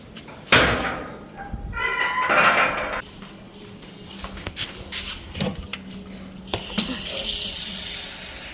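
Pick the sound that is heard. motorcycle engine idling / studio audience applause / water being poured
water being poured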